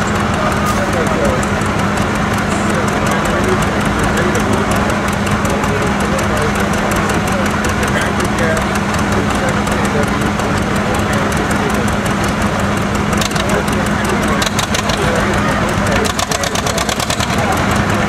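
A 1958 John Deere 720 tractor running on LP gas at a county fair antique tractor pull, a steady low engine hum heard amid crowd noise and a loudspeaker voice talking throughout.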